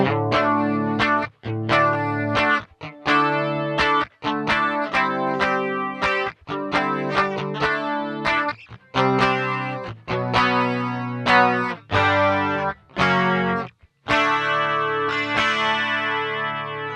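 Electric guitar, a Stratocaster, played through an MXR Rockman X100 on its clean setting, in stereo: a sequence of strummed chords with chorus and echo shimmer, each ringing briefly before the next, loud and alone.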